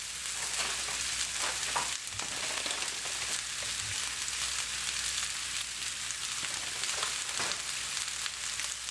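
Onions and meatballs sizzle steadily in a hot pan, a constant bright hiss with occasional pops and stirring scrapes, close and uninterrupted throughout.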